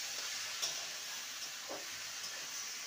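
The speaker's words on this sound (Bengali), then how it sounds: "ভালো করে নেড়ে নেব।" Long beans sprinkled with chopped coriander sizzle steadily in a pan over a gas flame, with an occasional soft scrape as they are stirred.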